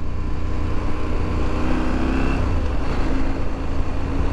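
Road traffic rolls past at dusk as the sun goes down, a steady, fairly loud wash of car and motorcycle engines with no pauses.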